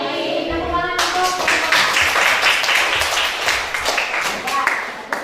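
A classroom audience of students and teachers applauds during a teaching practice session, a dense burst of clapping that starts after a brief pause and holds steadily to the end.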